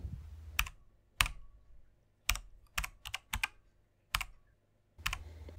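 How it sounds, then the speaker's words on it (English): Computer keyboard typing heard up close, in a slow, uneven run of about ten distinct key clicks with short gaps between them and no talking. "Now type in Hotmail."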